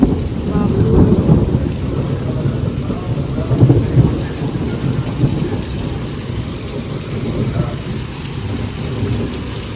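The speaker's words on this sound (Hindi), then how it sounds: "बिजली कड़कत संगवारी हो" A summer thunderstorm: steady, heavy rain patters on surfaces nearby while low thunder rumbles and rolls through, loud and continuous for the whole stretch with no voices.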